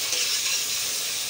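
Chicken hitting a hot pan for yakhni pulao gives a steady, close, bright sizzle and hiss that holds evenly for a moment with no voices.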